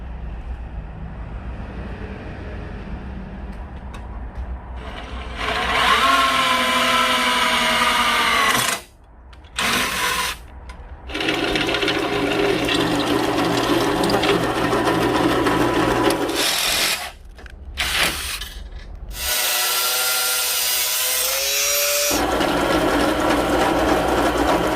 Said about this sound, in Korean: 이렇게 구멍을 뚫었습니다